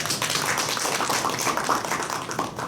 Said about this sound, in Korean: 좋은 강의 해주신 김한별 선생님 박수 부탁드립니다.